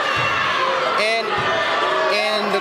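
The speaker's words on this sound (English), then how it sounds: "And the crowd is not liking that right there." Basketball crowd at a men's college game between SUNY Plattsburgh and Buffalo State, a steady loud roar of voices with rising shouts and whoops of disapproval over a late call, continuous throughout.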